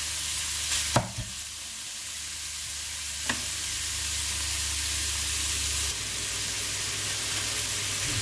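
Meat frying in a pan for nasi goreng, its fat rendering out; a steady hissing sizzle runs throughout, broken by a couple of sharp knocks near the start, with no voices.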